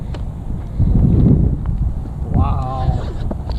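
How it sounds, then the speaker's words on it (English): Strong wind gusting across a rooftop at a shopping mall, buffeting the microphone as a low rumble that surges and eases over a few seconds, with people talking over it. "Windy up here, but we'll take it."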